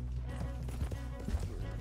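Horse hooves galloping in Red Dead Redemption 2, a steady rhythmic clip-clop beating under continuous game ambience with people talking over it throughout.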